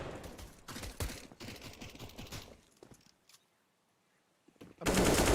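Rapid P250 pistol shots mixed with other gunfire in a professional Counter-Strike match, crackling densely at first, fading to near silence, then ending in a loud burst.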